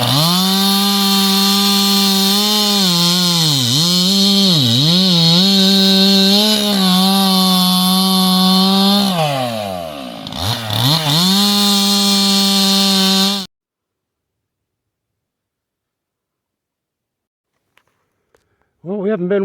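A new chainsaw cutting firewood whines loudly up close, its pitch dipping repeatedly as it bogs into the wood, then cutting off abruptly, leaving near-silence with a couple of faint clicks.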